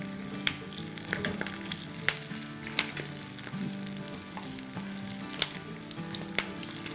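Steady, close sizzling of curry leaves frying in hot oil, with scattered sharp pops and crackles over a constant hiss and faint clinks.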